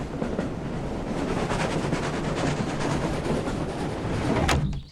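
A train rumbles steadily on the railway, loud and close, with clattering wheel noise building over several seconds and a sharp metallic clack near the end; no voices.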